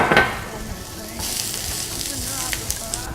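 Onion sizzling in a hot frying pan, a steady broadband crackle with a louder burst as it first hits the pan, then continuous close frying with small pops and stirring throughout.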